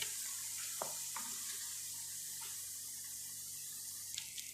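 Ground onion, yogurt and tomato paste frying in a pot for kebab masala, a soft steady sizzle with a few faint stirring clicks and scrapes, no talking.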